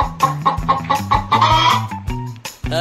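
A hen clucks again and again, close and loud, in a quick uneven run of sharp calls with no one talking.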